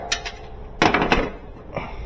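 Hammer tapping a worn part out of an old Whirlpool Planform washing machine rebuild, heard as a few sharp metallic knocks, a single tap then a close cluster of strikes, moderately loud and near.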